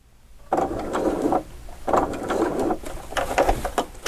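Sewing machine stitching cording onto a decorator pillow, running in three short bursts of a few seconds each with brief pauses between, close and moderately loud.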